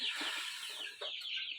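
Hens and a rooster in a new coop cluck and chatter close by, in a dense run of bright, overlapping calls with brief pauses and no talk.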